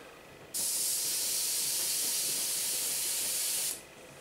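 An airbrush sprays paint at 25 PSI, a steady close hiss that starts abruptly, holds evenly for about three seconds, then cuts off, with no talking.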